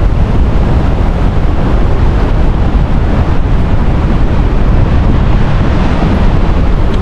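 Niagara Falls roars in a loud, constant broadband wash of falling water, steady and unbroken throughout with no voices.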